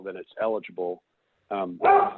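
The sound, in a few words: dog barking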